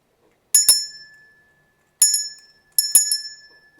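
A small bell rung during a tarot reading gives three bright, ringing strikes with clear sustained tones, the first two close together and the last after a pause, each decaying into silence, with no talk.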